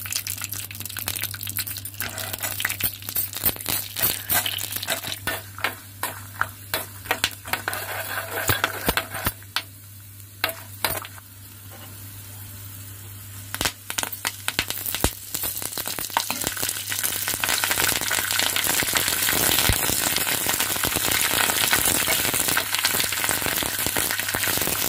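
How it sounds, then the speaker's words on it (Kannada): Peanuts roasting in a pan on the stove for a vangibath masala dish, a continuous dry sizzle and crackle with frequent scraping clicks of a spatula, swelling louder toward the end; no talking. "ಈ ಕಡೆ ಒಂದು ಮೇಲೆ ನಾನು ಕಡಲೆ ಬೀಜ ಹುರ್ಕೋತಾ ಇದ್ದೀನಿ."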